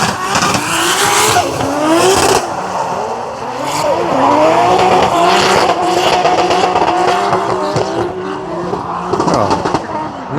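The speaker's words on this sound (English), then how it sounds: "Apparently you can drift even in the rain." Drift cars slide around a wet race track in the rain, engines revving hard with tire squeal and spray, loud and continuous under occasional talk nearby.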